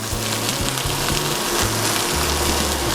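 Cabbage sizzles steadily in a hot pan, a continuous close crackle and hiss with faint rhythmic stirring thumps underneath, no talking.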